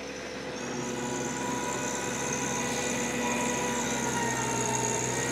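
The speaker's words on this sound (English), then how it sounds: "now I can hear that on the engine, that little engine" A TYM T264 tractor engine runs steadily under load while pulling a 5 ft Rural King tiller through soil, making a constant close drone with a strong, even hum and no talk.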